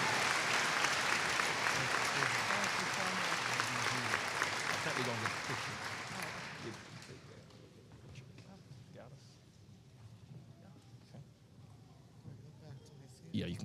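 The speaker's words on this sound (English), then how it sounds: "Let's give her a round of applause, Professor Mary Fenimore." At a spring university commencement ceremony, a large audience applauds loudly for about seven seconds, then the clapping fades to sparse claps and quiet room noise as a voice speaks.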